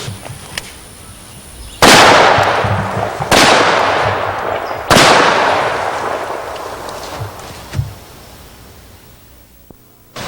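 Three loud single-action revolver shots fired at targets on an outdoor range near Shreveport, Louisiana, each with a long echoing tail, followed by a fainter pop and quiet.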